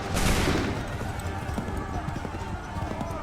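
Volley of musket fire with clattering hooves in Assassin's Creed 3, a dense battlefield wash of shots and commotion, loudest at the start and then steady, with shouted commands mixed in.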